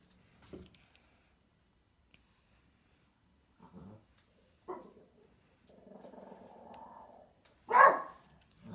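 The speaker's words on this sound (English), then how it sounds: "And there goes my dog." A small, crusty old dog grumbles and barks in short, scattered bursts across a quiet room: a few low growls, a longer whining grumble, then one louder sharp bark near the end.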